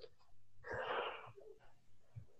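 A single sharp sneeze bursts out about a third of the way in, moderately loud against a low background hum, with soft breathing sounds after it.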